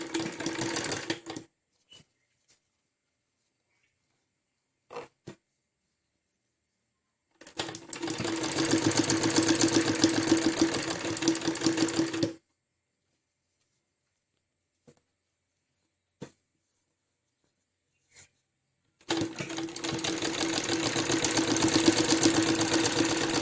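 A sewing machine stitches golden piping onto fabric in three steady motorized runs, a few seconds each, with near silence and faint handling clicks between them.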